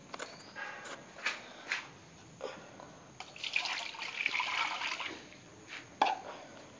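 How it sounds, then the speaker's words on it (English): Small amounts of water poured into a plate during a simple light-refraction experiment, heard as several brief, faint splashes and trickles spread across a quiet room. "Pour water in small quantities in the plate."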